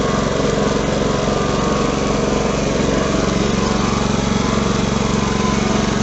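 A Honda HRB535 lawn mower engine runs steadily close by, a loud, even, buzzing drone that holds without change from start to finish, with no voices.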